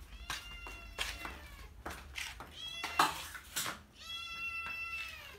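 A cat meows again and again, a string of close, clear, drawn-out cries with short gaps between them, ending in a longer wavering call, heard indoors over faint household clatter.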